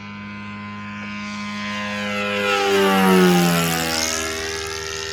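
Great Planes F4U Corsair fun-scale RC model airplane, fitted with an engine almost double the size of its original OS 52, roars loudly in flight, its pitch sweeping with a clear Doppler shift as it swells, passes and fades.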